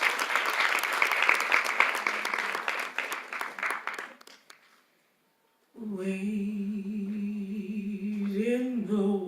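Audience applause after an a cappella performance, a dense steady clapping that fades to silence around four seconds, followed by a choir starting to sing.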